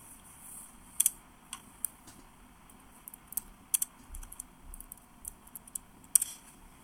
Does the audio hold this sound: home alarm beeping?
no